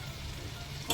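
Pumpkin cooking in a pan and being stirred, a steady close sizzle and frying hiss that runs continuously, with a brief scrape of the spoon at the end.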